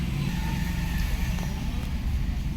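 Hyundai Tucson engine idling steadily after being started, a continuous low rumble with no speech, heard close up in a workshop setting during an airbag sensor repair.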